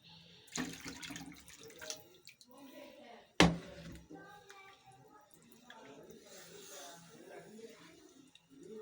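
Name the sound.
water poured from a bowl into a cooking pot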